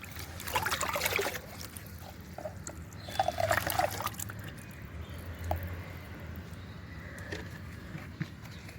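Homemade liquid fertilizer made from banana peel is poured and mixed, giving splashy trickling bursts near the start and again around the middle, then quieter dribbles and small liquid sloshes, close by and without speech.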